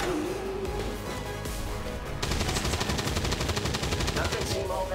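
Rapid automatic gunfire in the video game XCOM 2 rattles out loud and close, beginning as a sustained burst halfway through over a dense game soundscape.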